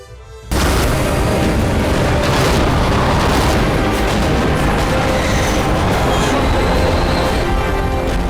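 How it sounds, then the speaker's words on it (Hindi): Rocket attack explosions in the Azerbaijan–Armenia war arrive as a sudden loud blast that becomes a dense, continuous roar of rumbling detonations, with no talking. "घनघोर रॉकेट हमले का ये दृश्य है।"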